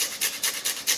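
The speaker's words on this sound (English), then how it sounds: "just going to grate in some lime zest" Lime is grated over cheese in a kitchen, four quick rasping strokes against the grater in a steady back-and-forth rhythm, close and fairly soft, with no speech.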